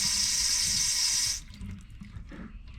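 Water rushing steadily into a slow-filling toilet tank, a bright hiss that cuts off abruptly partway through, followed by faint drips and small clunks.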